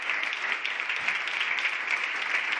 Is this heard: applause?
yes